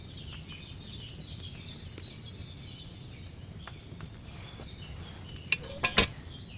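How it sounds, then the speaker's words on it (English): A cauldron of wine bubbling and boiling over a flame in Kingdom Come Deliverance 2, a soft, steady, low bubbling hiss with a few faint clinks toward the end. "Hear that bubbling? It's boiling."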